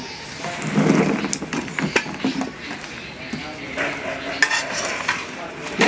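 Mango pieces for pickle drop into a pan of cooked spices, giving a burst of sizzle followed by stirring and clinks of a utensil against the pan, all under a person talking.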